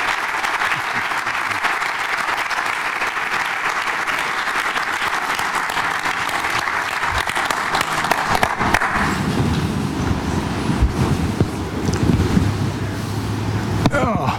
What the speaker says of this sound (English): How about a round of applause for Paul Flatley?